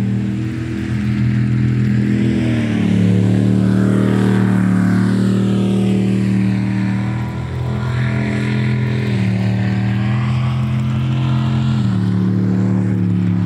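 Racing boats on Webbs Slough sweep around a tight corner at the tip of an island, their engines a loud, steady, close drone with harmonic whine rising and falling through the turn, with no talk over it.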